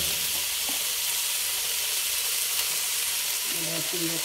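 Spices, cinnamon and ginger-garlic paste, hit a hot pan for morog polao, giving a loud, steady hiss of frying with bright sizzle throughout and a few faint clinks near the end.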